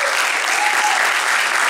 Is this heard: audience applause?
yes